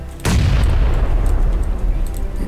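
Grenade explosion in PlayerUnknown's Battlegrounds, a single sudden loud blast that rumbles and decays over a couple of seconds, heard alone after a quiet start.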